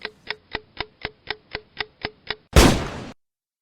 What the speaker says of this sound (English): A constant, rhythmic grinding of metal gears, like a wind-up clock, not ticking exactly, but gears moving against gears in a rhythmic pattern